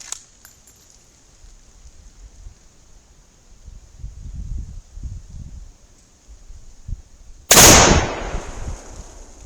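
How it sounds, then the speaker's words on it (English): A Winchester 1894 lever-action rifle fires a 170-grain load: one loud, sharp shot near the end rings out over quiet outdoor background, following a short stretch of faint handling noise. "These are now the 170 grain. These last two shots."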